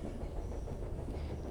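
A train rolling along rails in the adventure game Charnel House Trilogy, a steady low rumble with faint rhythmic clatter, continuous and even throughout.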